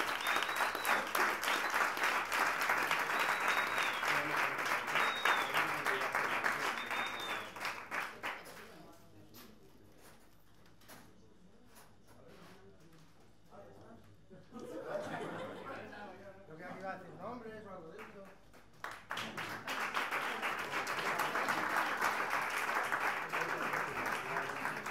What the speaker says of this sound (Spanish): fuerte aplauso para estos grandes artistas que nos visitan